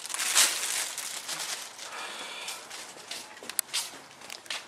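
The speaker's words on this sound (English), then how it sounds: "my mom is starting to put plastic bags over the plants as usual" Plastic bags crinkle and rustle as they are pulled over garden plants outdoors, a busy close-up crackling texture with scattered sharp crunches throughout.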